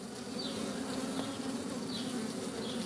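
Honeybees swarm over hive frames as they build comb, producing a dense, steady buzzing hum that stays close and loud throughout, with no voices over it.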